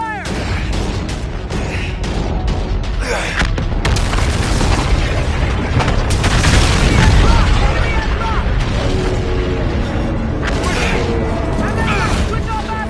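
Incoming missiles burst in a naval battle in Infinite Warfare, with repeated heavy booms and clanking mechanical noise beneath loud, chaotic shouting and battle din that swells midway.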